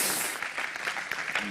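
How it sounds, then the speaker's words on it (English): Audience applause at a stage event, a dense steady wash of clapping running through the whole short stretch with some voices mixed in. "Give a round of applause."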